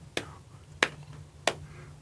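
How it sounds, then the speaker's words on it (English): Three sharp single hand claps spaced evenly about two-thirds of a second apart, tapping out a simple rhythm in a quiet room over a faint steady hum. "If we should clap this"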